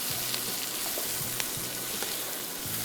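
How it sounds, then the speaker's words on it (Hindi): Masala spices with curry leaves and five or six green chillies fry in a pan, giving a soft, steady sizzle with faint crackles and light stirring, heard alone at low volume. "साथ में हरी मिर्चें 5 से 6 अदद, और इस सारे मसाले को हमने थोड़ा सा करना है फ्राई।"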